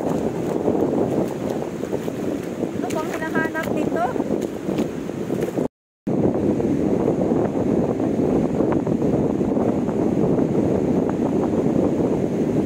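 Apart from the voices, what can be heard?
strong wind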